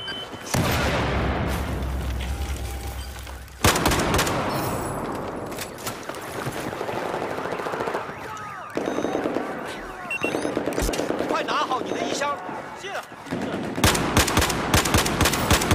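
Battlefield 4 combat with an SVD rifle and other weapons firing: loud, dense bursts and single cracks of gunfire, some explosive booms, running continuously with brief sharp breaks, no talking.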